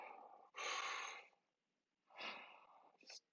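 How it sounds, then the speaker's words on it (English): Two slow, deep breaths sound close to the microphone, each a long airy inhale and exhale, with a short quiet gap between them and a brief extra puff of air at the end. "Let's begin with taking a breath."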